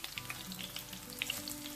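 Garlic sizzles in hot oil for a Bengali-style rainbow trout curry, a soft, steady crackle that stays faint and close for a brief moment with no voices.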